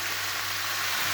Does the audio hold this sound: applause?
no